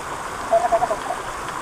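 A village stream in the Konkan countryside rushes in a steady, broadband wash of flowing water, close by, with a brief splashy swell in the middle of the short stretch and no voices.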